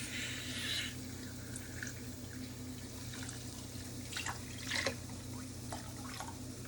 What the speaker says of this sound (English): More cold water to submerge.